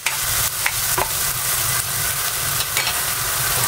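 Chicken going back into a sizzling pan for Coca-Cola chicken, with loud continuous frying and stirring scrapes close by and no talking.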